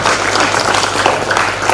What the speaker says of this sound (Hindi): ग्रेट राउंड ऑफ अप्लॉज होना चाहिए फ्रॉम दी स्टूडेंट्स, जोरदार तालियां